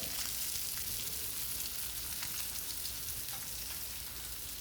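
Mackerel pieces frying in a pan of hot oil, a steady, dense sizzle and crackle that holds evenly throughout with no voices.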